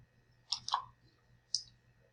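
Computer mouse clicking while formatting a document: a couple of quick, close clicks in succession followed by one more single click after a short pause, with no talking.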